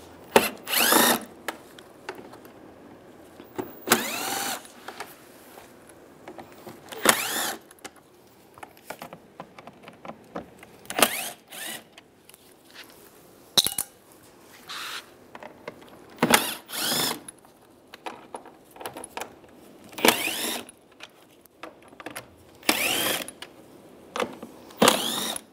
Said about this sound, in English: Use a Phillips head screwdriver.